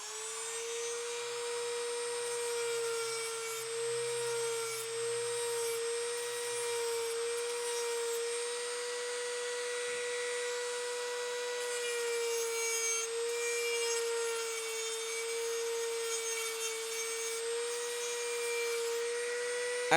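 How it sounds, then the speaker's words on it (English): A steady high-pitched whine of a small sanding drum deburring aluminum crossbow parts, continuous and fairly close, with no voices. "these little sanding drums should be okay for that"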